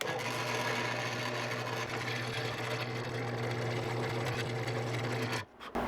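A 5/8 inch bit drills into a wooden crankbait body, giving a steady, close, continuous mechanical whir that stops abruptly near the end.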